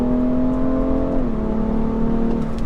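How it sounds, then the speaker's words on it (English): A BMW 335d xDrive diesel pulls hard in first gear in manual mode, its engine note droning loud and steady from inside the cabin, pitch holding then dipping slightly midway. "Let's go for a first gear pull."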